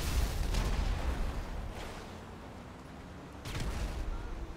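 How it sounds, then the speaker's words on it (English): Deep, rumbling booms from far off in GTA 5 on PC, two or three muffled blasts with a low roar trailing between them, no voices. "So, distant explosions seem alright."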